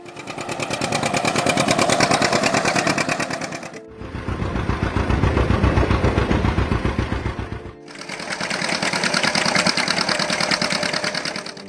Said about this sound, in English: John Deere Model A.